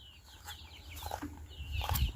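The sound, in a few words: chickens clucking while eating cat food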